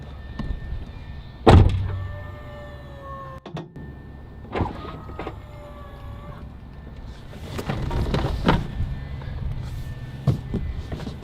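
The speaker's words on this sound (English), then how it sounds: "If I go like this, open the door, those are retractable running boards." Door of a Tesla Cybertruck opening as aftermarket power running boards deploy: a sharp thunk, then a few whirring motor runs with clicks and mechanical clunks, close by with no talk.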